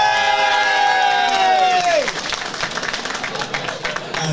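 An audience at a boxing club home show cheers and applauds loudly after a long shouted call from a voice, crowd whoops and clapping swelling, then settling into scattered claps and chatter.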